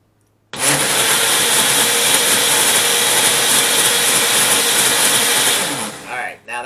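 A blender runs at full speed liquefying reaper peppers into juice, a loud continuous high whirring motor that starts abruptly and holds steady before winding down.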